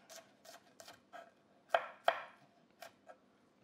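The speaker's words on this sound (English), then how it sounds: "Make sure you also slice the white part of the green onion, okay?" Green onion, white part included, sliced with a knife on a cutting board in a Cajun jambalaya kitchen: about ten crisp, separate chops at an uneven pace, two of them louder and sharper, with no talk.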